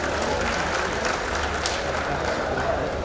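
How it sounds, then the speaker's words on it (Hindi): Applause and cheering from a crowd at a political rally in Indore honouring a politician, a steady dense clatter of clapping throughout with murmuring voices underneath. "जोरदार तालियां बजाएं कैलाश जी विजयवर्गीय के लिए।"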